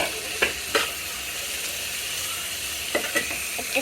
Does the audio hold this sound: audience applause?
no